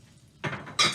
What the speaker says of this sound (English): Now we put those pork chops into this frying pan.